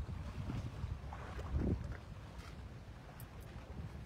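Sea waves wash in at the shore under gusting wind, a soft, rough rush with one fuller surge midway and wind buffeting the microphone throughout.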